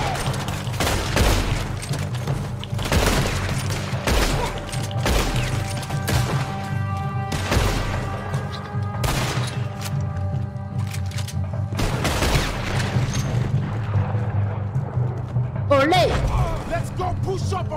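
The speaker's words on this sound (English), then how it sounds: "There's another set of cannons up ahead!" Heavy cannon booms blast at irregular intervals in the video game Red Dead Redemption 2, a dozen or so loud explosive hits over a low steady hum, with shouting voices mixed in.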